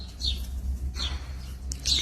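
Birds calling in trees, including ground doves: several short, faint chirps and calls spaced apart over a low outdoor rumble, with no talking.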